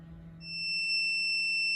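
A Nurture Right 360 egg incubator sounds its low-temperature alarm while hatching Dutch Hookbill duck eggs. A steady, high electronic beep starts within half a second and holds loud and unbroken to the end.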